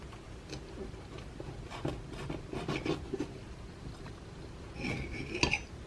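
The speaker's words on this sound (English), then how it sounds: "I'm going to actually cut it in half this way, and then I'll slice half of it in half." A knife cuts through a canned biscuit on a Dash mini griddle, producing a few light taps and soft scraping clicks against the surface, close and quiet, with no talking.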